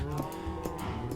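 Cows mooing in Minecraft, a few overlapping low, drawn-out moos from cattle nearby, steady and fairly loud.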